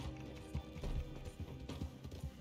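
A horse gallops in Red Dead Redemption 2, its hooves drumming in a quick, steady clip-clop rhythm, close and fairly loud.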